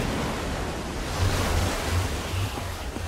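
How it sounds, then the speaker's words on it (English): Water released by a pulled lever in Minecraft: Story Mode gushes out as a steady, broadband rushing wash with low surging pulses, loud and continuous. "Here comes the water."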